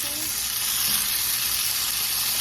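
Hasa-hasa fish fry in a pan with a continuous close sizzle of even intensity and a small pop at the very end.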